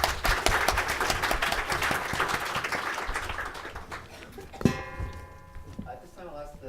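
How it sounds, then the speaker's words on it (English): A conference audience claps for the presenters at the close of a research round-table session. The dense applause fills the room, then thins out and fades away. "let's give a final round of applause for all the presenters."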